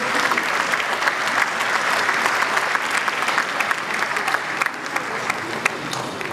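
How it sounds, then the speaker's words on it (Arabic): Loud, sustained audience applause fills a hall at the closing ceremony of the 2019 Carthage Film Festival, steady clapping from a large crowd throughout with no break. "تصفيقة كبيرة"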